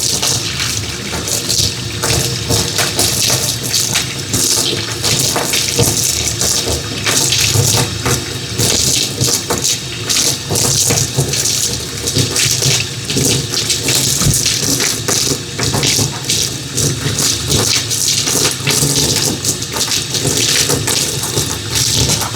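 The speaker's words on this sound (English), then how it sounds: "now that the hot water's running" Hot water runs from a tap into a laundry sink in a steady, loud, close gushing stream that splashes and fills without a break.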